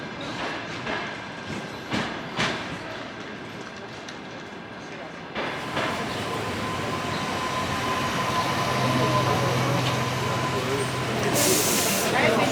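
A small, crowded train stands at a station while passengers board, its steady hiss and rumble building and holding, with a brief air-brake burst near the end and voices under it.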